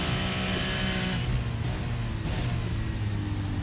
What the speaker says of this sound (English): Yeah, listen to that engine note.